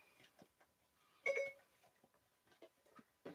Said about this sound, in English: my phone is wanting to ignite Siri